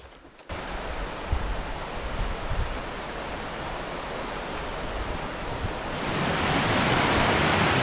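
Broad, steady rush of a wilderness stream at a backpacking trail crossing in northeast Washington's Salmo Priest Wilderness, filling the clip continuously and swelling louder toward the end, with no talk.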